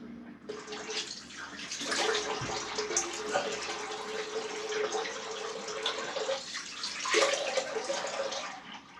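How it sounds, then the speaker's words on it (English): Water runs steadily from a sink tap into a basin for several seconds, a continuous broadband gush with small splashy fluctuations, close and fairly loud, with no talk over it. "Just going to drain a drop of water"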